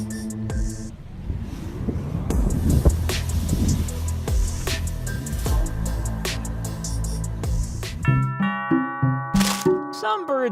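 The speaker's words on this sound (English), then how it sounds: "Some birds get very nervous when they hear a doorbell." A doorbell chimes out a series of bright ding-dong tones near the end, following a noisy stretch of a car engine revving and indistinct voices.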